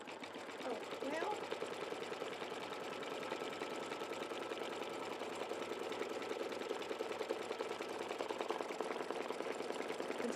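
Quilting sewing machine running hands-free on a bean stitch for a small mug rug, a fast steady mechanical chatter with faint background sound.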